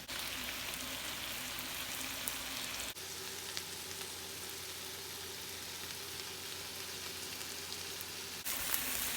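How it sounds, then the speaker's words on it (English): Canned kalua pig pulled pork frying in a pan as its juices cook off, a steady close sizzle and crackle throughout with no talking. "I'm going to let this cook and let the juices evaporate and try to get a nice crisp on here."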